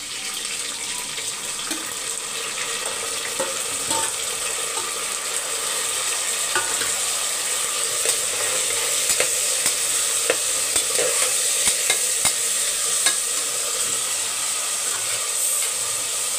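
Half-softened onions sauté in a pan for a village-style sambar as chopped tomato is added, a steady frying hiss with frequent stirring scrapes and clinks throughout, no talk.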